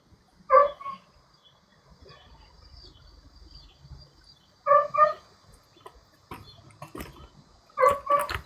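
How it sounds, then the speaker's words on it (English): A dog barking in short sharp bursts, about three separated pairs of barks spread across a quiet outdoor background with faint rustling between them. "I'm tired of hearing him bark."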